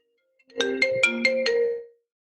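A phone ringtone chimes during a Zoom call: five quick, bright, evenly spaced melodic tones in a clear rising-and-falling pattern, fairly loud and alone against silence, fading out after about a second and a half.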